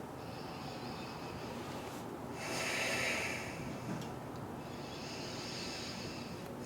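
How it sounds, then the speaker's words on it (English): Slow, deep breathing through the nose while holding a yoga bridge pose, a soft hissing inhale and exhale cycling a couple of times, close and quiet with no talking. "We'll take about 10 breaths here."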